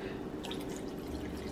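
White cooking wine is poured into a slow cooker, a quiet trickling, dripping splash of liquid lasting about a second and a half, close and soft with no talking.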